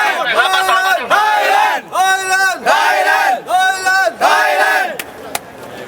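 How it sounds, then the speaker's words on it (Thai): Thai football fans outside Mohammed bin Zayed Stadium in the UAE, about two thousand supporters, chant loud rhythmic cheers for the national team in repeated bursts, close and powerful, fading near the end. "ขอทิ้งท้ายกับเสียงเชียร์ทีมชาติไทยดังๆหน่อย"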